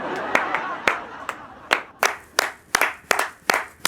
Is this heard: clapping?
yes